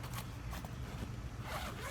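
A zipper is pulled open along the nylon carrying case of a Coleman cabin tent, giving a short close ripping run that lasts about two seconds with no voices.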